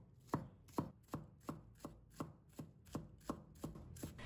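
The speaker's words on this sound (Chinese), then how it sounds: "把葱白切成稍微细一点的葱花" A knife finely chopping scallion whites on a cutting board, about a dozen crisp, evenly spaced chops, close and clear with no talking.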